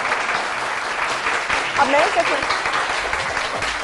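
A studio audience on a morning television show applauds, a dense burst of clapping close by with a voice briefly heard over it.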